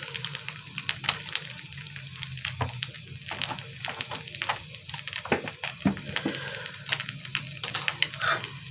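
Hot oil left over from frying fish sizzles steadily in a pan at a kitchen stove, a continuous crackling hiss with scattered pops, close and fairly quiet throughout.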